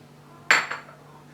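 Cooking pot being handled in a kitchen, a single metallic clank followed by a softer knock, close and brief.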